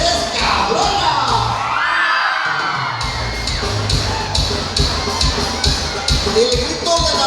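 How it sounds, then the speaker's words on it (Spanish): At a wedding in San Agustín Oapan, women let out a loud celebratory cry, with high whoops and yells over a noisy crowd and some talk amid the festive din. "El grito de las mujeres que mandan en su casa."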